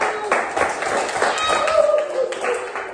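Scattered clapping from a classroom group after a student presentation, fairly close and uneven, running under steady talking and chatter for the whole stretch.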